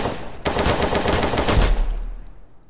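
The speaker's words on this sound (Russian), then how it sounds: "панда меня тут обстреливает, как не знаю что" Rapid automatic gunfire rattles loudly up close in the mobile shooter game Rapira, a dense burst lasting over a second before a heavy thump and a fading tail.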